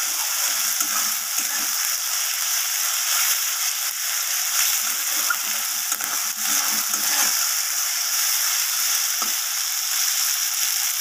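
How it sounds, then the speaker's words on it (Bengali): Fish curry masala with chili powder is sautéed in a pan, giving a dense, steady hiss with faint scraping and stirring underneath, close and fairly loud throughout. "সব কিছুকে এইভাবে ভালোভাবে কষিয়ে নিচ্ছি আমি"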